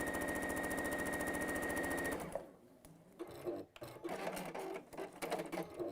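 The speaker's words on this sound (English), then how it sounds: "With my starting square, I then sew 1/4 inch" A sewing machine sews a quarter-inch seam in one fast, even mechanical whir for about two seconds. It then stops, and quieter handling and fabric movement follow.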